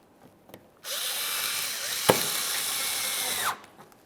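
A power tool drives an 8mm-headed bolt under the bumper of a 2014-2018 Mazda 3, whirring in one close burst of just under three seconds with a sharp click midway, framed by quiet handling noises before and after.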